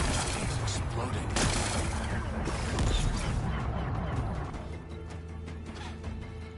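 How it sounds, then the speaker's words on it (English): Rocks blasted apart in Horizon Forbidden West: a loud burst of crackling explosions and crashing debris with rapid-fire impacts, rumbling over several seconds before fading into a lower, tonal game background. "Gotta blast away some rocks so I can expose the. It's working!"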